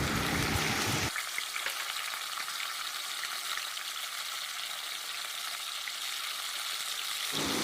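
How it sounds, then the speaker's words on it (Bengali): Prawns frying in mustard oil in a wok, a steady close sizzle with fine crackle that holds evenly throughout, louder at the very start and end, with no voices. "কড়াইতে সরষের তেল দিয়ে চিংড়ি মাছগুলো ভেজে নেব।"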